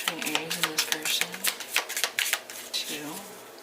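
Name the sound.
tarot cards being shuffled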